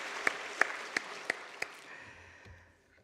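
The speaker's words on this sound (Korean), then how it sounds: "격려의 박수 한번 보내주시고, 지난주에 못다 격려해드린 우리 흰돌 찬양대 분들도 격려의 박수." A church congregation at a Sunday afternoon service gives the choir a short burst of applause: about five sharp, evenly spaced claps that stand out loudly, then the sound fades into quiet room ambience.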